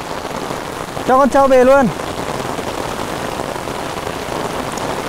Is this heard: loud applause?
no